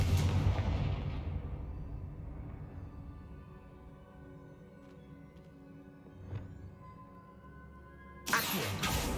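Confringo spell blast in Hogwarts Legacy: a loud booming impact at the start fades into a long rumbling tail, with small pops in between and another sharp burst near the end.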